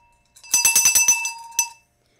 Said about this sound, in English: my bell I bought when I went to the mountains